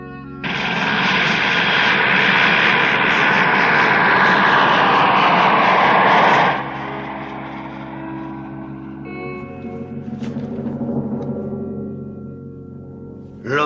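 Helicopter flying away, a loud whirring rotor-and-engine roar that cuts off suddenly and gives way to a faint low hum.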